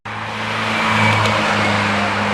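Cars and motorbikes passing on a road on a hot day, an old Jaguar among them; a steady, fairly loud engine rumble that swells slightly mid-way as a vehicle goes by, with no talk.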